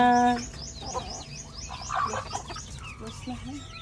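Chickens cluck in a farmyard alongside ducks and goats, with short bright calls scattered across a few seconds over a busy background and some voices nearby.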